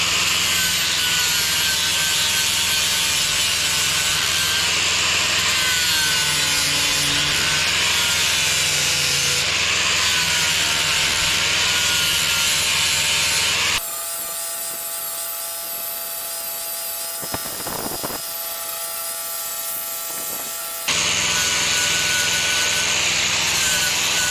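An angle grinder bites into a wooden boomerang, a loud continuous abrasive whine and rasp close by, briefly dropping out to a quieter pause before the grinding resumes.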